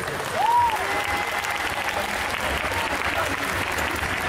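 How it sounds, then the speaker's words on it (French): Audience applause fills a cosplay contest at the Yggdrasil Indoor 2023 convention, a steady, dense wash of clapping from a crowd that holds at an even level throughout, with a brief tonal whistle rising early on. "Je vais vous demander s'il vous plaît un tonnerre d'applaudissements pour Brignoles Cosplay."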